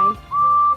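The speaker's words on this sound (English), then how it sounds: "they just whistle at each other and it's like supposed to be them peeping" A train engine whistle from a Thomas and Friends fan series sounds twice: a short, steady, clear toot, then a longer, loud, sustained one.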